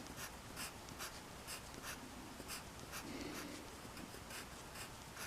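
Pencil writing on paper, drawing six large HP squares on a tabletop RPG character sheet, heard as close, quiet scratchy strokes in short repeated bursts against faint background hiss.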